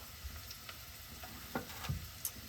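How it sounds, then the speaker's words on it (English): Food sizzles steadily in a hot skillet while being sautéed for chowder, a continuous close frying hiss with occasional soft stirring clicks and no talking. "So just start sauteing that up."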